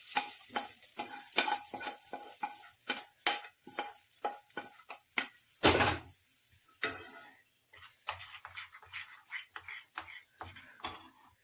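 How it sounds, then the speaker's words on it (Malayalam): A spoon stirs hot tempering into kuzhi paniyaram batter, making a run of quick, close scraping and clinking strokes with a faint sizzle and one louder splash midway. "ഇത് നമുക്ക് ചൂടോടെ തന്നെ ആ മാവിലോട്ട് ഒഴിച്ച് ഇട്ട് മിക്സ് ചെയ്യാം."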